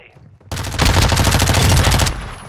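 Loud, close automatic gunfire from a Lachmann Sub submachine gun in Call of Duty: Modern Warfare II: one sustained rapid burst after a brief quiet start, ending abruptly.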